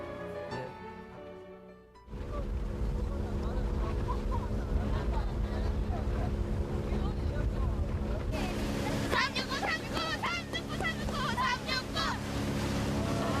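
Dad's fishing boat out on the water: after a brief musical opening, a loud, steady engine drone and water rush take over and continue to the end, with children's voices and laughter rising over it in the later seconds.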